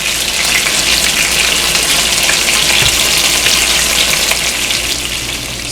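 Jamaican snapper fish frying in a pan, a loud, dense, continuous hiss of hot oil sizzling close by, steady for several seconds before easing slightly.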